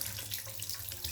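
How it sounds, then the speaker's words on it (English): Water running from a bathtub tap through the diverter, a steady close splashing rush of flowing water over the brief moment. "When you turn on this, the water go down to the diverter."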